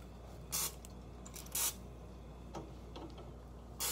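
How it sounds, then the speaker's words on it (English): Cooking spray sprayed into a hot pan, short bright hissing bursts repeated several times over a steady background hum, close by. "I'm gonna go ahead and spray."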